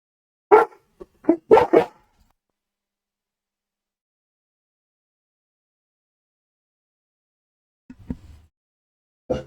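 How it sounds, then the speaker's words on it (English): A dog barks in a quick cluster of several sharp barks, then goes quiet, with a couple of fainter sounds later, close and fairly loud with no talk. "Sorry about the barking."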